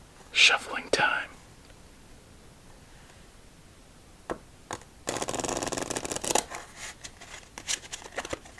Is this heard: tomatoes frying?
no